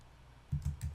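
A Control K shortcut pressed on a computer keyboard, three quick soft key clicks in close succession, near and faint, with no talking.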